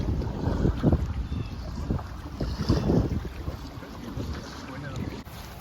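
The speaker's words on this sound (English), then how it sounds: "Oh, it's windy." Gusty wind on a river buffets the microphone in uneven rumbling bursts while out on the water in a small boat, with faint lapping water beneath and no clear speech.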